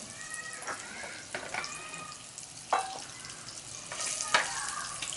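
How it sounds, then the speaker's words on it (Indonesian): Tofu sizzles and crackles in hot oil in a pan with scattered pops and bursts, a steady frying hiss underneath and no voices. "Kita goreng sampai garing, sampai kering ya."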